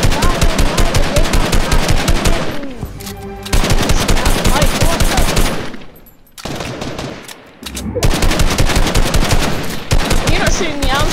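Rapid automatic gunfire in the video game Fortnite, dense loud bursts of shots repeating in long strings with brief pauses between volleys.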